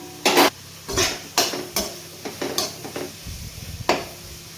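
Spoon scraping and knocking through mint rice in a cooking pot, several distinct clinks and stirs spaced irregularly, close and fairly loud with a faint background hiss from the stove.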